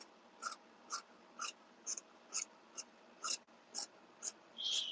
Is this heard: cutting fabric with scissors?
yes